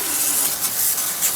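A powerful car-washing machine sprays water onto a Maruti Baleno, giving a steady, close, high hissing spray with slight pulses and no voices.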